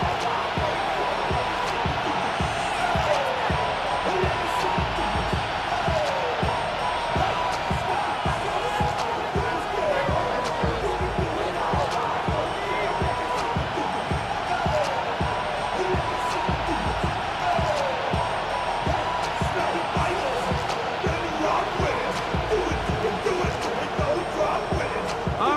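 A large stadium crowd roars steadily in an EA Sports football video game before a Colts versus Steelers matchup, a continuous dense wash of cheering and murmur with repeated thumps and clatter throughout, no voices distinctly in front.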